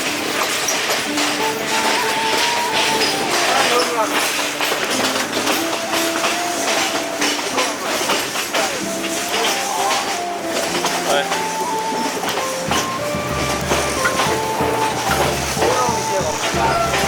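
A train climbing uphill on the Myanmar railway toward the Goteik Viaduct, steady rumbling and rattling of the carriages throughout, with a voice talking over it.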